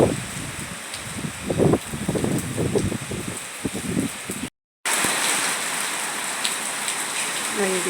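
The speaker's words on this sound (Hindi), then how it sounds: "ले रही हूँ बारिश का मज़ा।" Heavy rain falls steadily in a dense, hissing wash, with wind and rustling through the first half, a brief dropout, then continuous close downpour.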